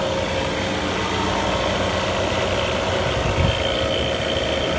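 A refrigerant recovery machine pumping gas from a leaking air conditioning system into a recovery tank, giving a steady broadband mechanical whir and hiss that holds at an even level throughout.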